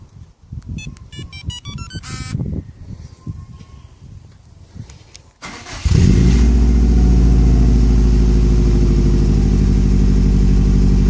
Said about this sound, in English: Going to start the engine.